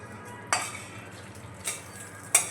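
Hot tadka is poured over a spice paste for chutney and stirred in, giving three short, bright clinks and splashes of a spoon against a bowl, spaced apart over a soft kitchen background.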